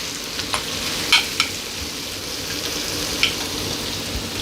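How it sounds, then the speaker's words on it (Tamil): Onions sautéing in hot oil with cumin seeds give a steady close sizzle and fry, with a few sharp pops and spatula scrapes scattered through. "வெங்காயம் லேசாக பிங்க் நிறம் ஆகிற வரைக்கும் நம்ம வதக்கலாம்."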